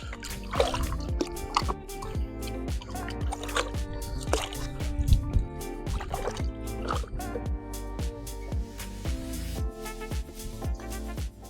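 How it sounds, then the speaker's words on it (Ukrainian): Water splashes and sloshes in irregular bursts as bricks for a tandoor are dipped and scrubbed, with dripping and clunks close by. "достатньо просто в воді помити кирпич"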